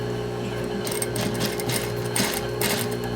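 A sewing machine runs steadily, top stitching over an earlier row of stitching on a jeans waistband during a waist resizing alteration, its motor whirring continuously and close by with no talk.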